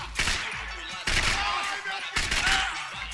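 Gunfire rings out in the video game Max Payne 3 as three dense bursts of shots roll one after another, loud and close, each trailing off into noise; a faint voice sits underneath.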